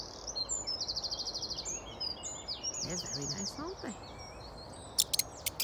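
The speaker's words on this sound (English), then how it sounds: "Yes, I can hear the birds singing too." Small birds chirp and trill repeatedly in high, rhythmic phrases beside a brook lined with willow trees, with a voice talking over them.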